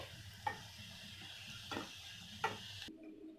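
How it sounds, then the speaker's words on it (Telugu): Turmeric powder sizzling in hot oil for a chicken fry: a soft, steady hiss broken by three sharp spoon clicks against the pan, ending abruptly in near silence. "ఇప్పుడు టర్మరిక్ పౌడర్ ఫ్రై అయింది"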